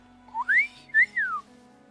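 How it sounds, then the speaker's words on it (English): A whistled tune in Wuthering Waves, two bright rising-and-falling phrases, clear and close over a faint steady background tone. "That whistle though."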